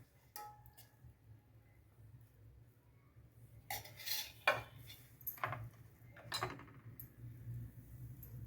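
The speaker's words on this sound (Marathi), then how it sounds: "आता आपण खजूर परतून घेणार आहे तर थोडंसं एक अर्धा चमचा तूप घालून त्याच्यावर तो परतायचा" Dates being stirred and sautéed with a spoon in half a spoonful of ghee in a pan, with intermittent metallic scrapes and clinks of the spoon against the pan over a low steady background hum.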